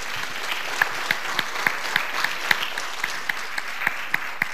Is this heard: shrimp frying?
no